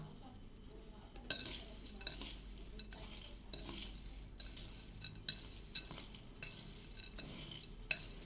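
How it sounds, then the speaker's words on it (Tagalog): Garlic stirred into crunchy fried peanuts in a pan, a utensil scraping and clinking against the metal in repeated strokes over a faint sizzle, close and quiet, with a voice talking softly in places. "Tapos, ihahalo ko na yung ating garlic."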